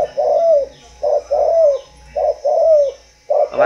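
A spotted dove coos close and clear in a steady, repeated phrase: a short note followed by a longer, falling coo, heard four times against a quiet background.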